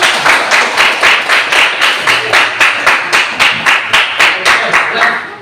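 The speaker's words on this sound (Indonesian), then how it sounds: "berikan tepuk tangan" A group in a classroom claps in unison, a loud, steady rhythmic beat of roughly a dozen evenly spaced claps over several seconds, close and with no voices over it.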